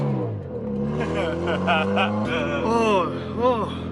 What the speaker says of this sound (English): right there was him breaking his clutch in, trying to do a burnout